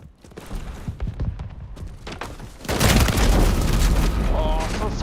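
Grenade blast in Modern Warfare multiplayer gameplay: after scattered gunfire and clatter, a heavy booming burst hits and rumbles on loudly to the end.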